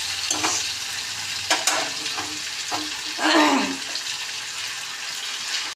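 Papaya and potato pieces frying in hot oil for a fish curry, with a steady sizzle and a few sharp bursts and stirring scrapes in the foreground, rising to a louder crackle near the middle.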